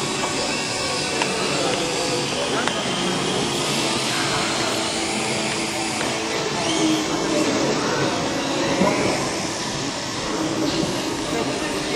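Steady loud roar and hiss of a jet aircraft passing low overhead, continuous and broadband throughout, with voices faintly underneath.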